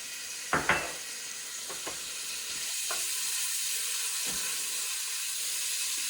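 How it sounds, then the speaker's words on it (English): Pancetta frying in swirled olive oil at the start of a Bolognese sauce gives a steady, close sizzle and hiss, opened by a couple of sharp clinks as the meat goes into the pan. "We'll start off putting our pancetta in there."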